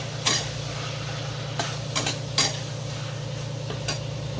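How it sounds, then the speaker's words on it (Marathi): A spice paste with Byadgi chili powder and curry masala sautés in a pan for a Konkani prawn curry, a soft steady sizzle broken by a few sharp clicks of a spoon stirring against the pan. "आणि थोडीशी बेडगी मिरची पावडर, करी मसाला टाकू थोडासा, चांगलं परतून घ्यायचं"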